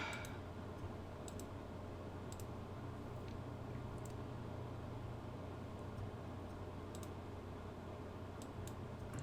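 Soft computer mouse clicks while playing the video game NEO Scavenger, scattered single and paired clicks at irregular intervals over a faint constant hum, with no talking.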